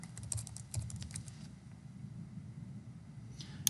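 Soft computer keyboard typing, a brief run of light keystrokes at the start entering a password, then mostly quiet with a faint click near the end.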